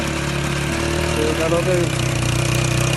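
Motorbike engine running steadily nearby to drive a heavy sugarcane crusher, a continuous mid-pitched drone with a brief rise in pitch, while someone speaks over it.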